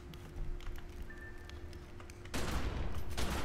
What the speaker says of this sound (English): We're going with a shotgun